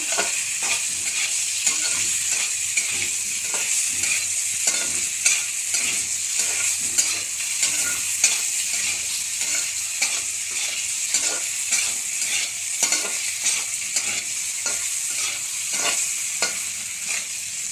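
A few pieces of paneer are stirred in hot oil, giving a steady, close sizzle broken by repeated scraping strokes of the spoon, with no talking.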